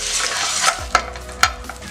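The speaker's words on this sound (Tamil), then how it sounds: "காஞ்ச மிளகாய் இதுலேயே போட்டு வறுக்கும் போது காரல் அப்படியே நிற்க முடியாது" Eight dried red chillies roast in a dry pan while a spoon stirs them, a soft steady sizzle broken by a few sharp scraping strokes against the metal, close and alone.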